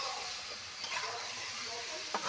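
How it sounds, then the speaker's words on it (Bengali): Meat frying in a pot while being cooked down for biryani gives a soft, steady sizzle with a couple of brief stirring scrapes, fairly faint and without talk. "মাংসটা ভালো করে কষে নেব।"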